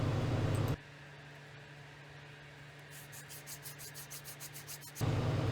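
Hand sanding the chamfers of a wooden dovetail keepsake box with 150 grit sandpaper on a sanding block, heard as soft, steady rubbing strokes that quicken midway, set between louder bursts of humming noise at the start and end.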